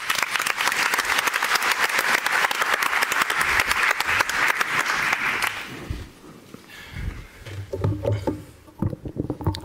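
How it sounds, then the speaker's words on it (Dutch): A warm burst of dense applause fills a talk evening at a cultural venue in Amsterdam, steady and loud for about five seconds before it dies away into a quieter room with faint sounds. "Geef hem een warm applaus."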